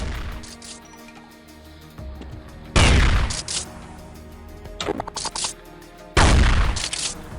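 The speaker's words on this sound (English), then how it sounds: "sound of shot and sound of loading to next bullet is one sound" Counter-Strike 1.6 weapon fire, where each loud, sharp gunshot runs straight into its reload clatter as one sound. Three heavy blasts ring out with quieter mechanical clicks and rattles between them, all close and punchy.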